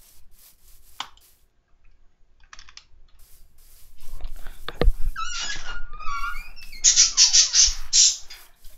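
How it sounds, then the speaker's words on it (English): A bird in the Minecraft video game chirps in quick, bright bursts, fast repeated tweets in the second half. Sharp keyboard clicks come just before, over a low background rumble. "bird, be quiet, be quiet."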